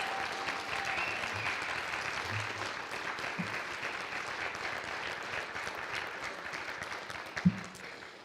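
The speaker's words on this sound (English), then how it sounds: "I think you can make more applause for that than what you just did." An audience at a university Three Minute Thesis competition claps steadily and evenly throughout, a dense, moderately loud applause with no talking.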